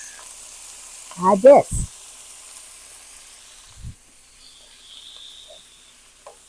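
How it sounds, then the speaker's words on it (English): Food quick-frying in hot vegetable oil gives a faint, steady sizzle and hiss. A short spoken word and a few brief clatters come near the start, then the frying goes on quietly alone. "we're going to quick fry this up"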